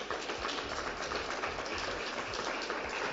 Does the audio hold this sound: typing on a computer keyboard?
no